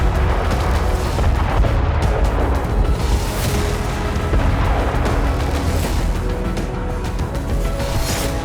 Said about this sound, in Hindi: रूस की बिछाई बारूदी सुरंग के ऊपर से यह वाहन गुजरा और झटके में तबाह हो गया